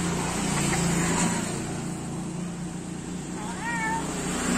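A black-capped lory parrot imitates a cat's meow, giving a clear, wavering meow-like call near the end over a steady background hum of traffic.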